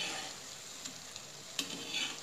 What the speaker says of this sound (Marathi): तर आपल्या ह्या आता चकल्या छान भाजलेल्या आहेत, तळलेल्या आहेत.